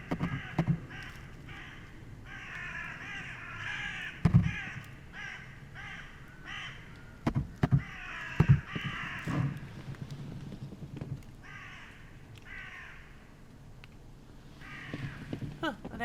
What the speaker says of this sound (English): It sets off the crows.